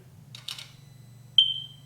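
A soft click and rustle, then a single sharp high electronic beep from a Sea-Doo Spark jet ski's ignition that trails off briefly over a low steady hum.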